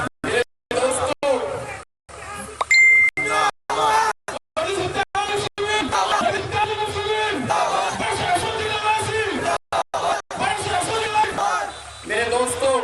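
A large crowd at an outdoor rally in Karnataka answers a speaker's Nara-e-Takbir call with loud repeated chanted shouts, a roaring mass of voices with babble, cut by brief drop-outs.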